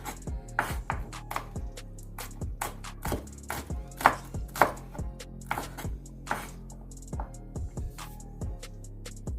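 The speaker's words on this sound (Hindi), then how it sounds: "हमने ये टमाटर काट लिए हैं और सब्ज़ मिर्च वो काटना स्टार्ट कर दिया है।" Green chilies are chopped on a board with a knife, giving a long run of crisp, close thuds at an uneven, fairly quick pace with short pauses between bursts, and no voices.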